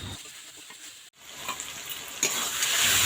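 Minced meat frying in a spice mixture for a Bengali keema ghugni, a steady close sizzle with stirring scrapes and a brief silent gap partway through.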